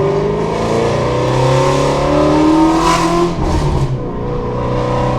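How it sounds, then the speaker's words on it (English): Flat-plane-crank V8 of a Shelby GT350 revving up and easing off close by, with a brief crackle from the exhaust as the throttle lifts, loud and continuous. "Just listen to those cracks and pops."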